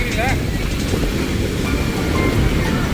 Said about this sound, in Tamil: அலை பாருங்க, எவ்வளோ பெருசா அலை